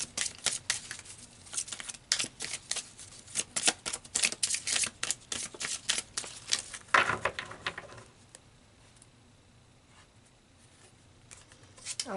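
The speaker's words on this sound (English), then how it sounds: "let's pull some more cards" Oracle cards are shuffled by hand in a rapid run of crisp riffling and flicking for several seconds, close and clear, then the sound trails off into near quiet.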